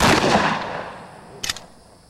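A shotgun loaded with buckshot fires once, a sharp loud blast that trails off into a fading echo, followed by a short distant crack; no voices.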